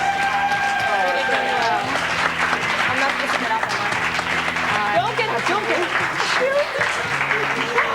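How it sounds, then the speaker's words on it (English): A studio audience at a 1999 television dating and cooking show claps steadily for the contestants over background music, with people talking and calling out through the applause. "Give them a round of applause, you guys."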